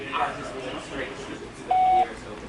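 A voice speaks briefly, then a single steady electronic beep sounds, clear and short, about a third of a second long.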